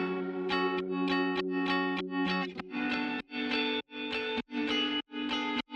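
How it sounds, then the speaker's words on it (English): Electric guitar chords strummed in a repeating rhythm, drenched in heavy reverb and effects so each hit washes and rings out. "this guitar and just added a hell of a lot of reverb"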